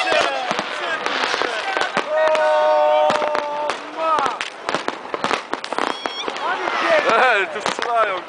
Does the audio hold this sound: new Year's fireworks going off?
yes